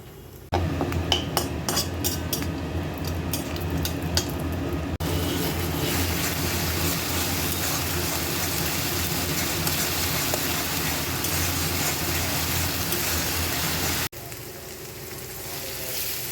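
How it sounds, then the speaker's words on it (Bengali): Spice paste hitting hot oil tempered with cumin, bay leaf, dried chilli and cardamom, a loud dense sizzle following a few clinks of utensils, continuing steadily before cutting off near the end. "এবারে যে পেস্ট করে রেখেছিলাম মশলা সেটা ঢেলে দেবো"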